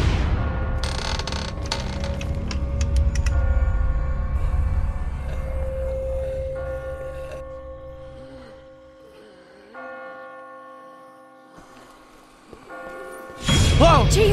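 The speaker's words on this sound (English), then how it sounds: "I just got spooked by those bells" Church bells ring out in The Walking Dead video game, a loud clanging burst that leaves long sustained tones decaying and overlapping, followed by quieter mechanical rattles and a sudden noisy jolt at the end.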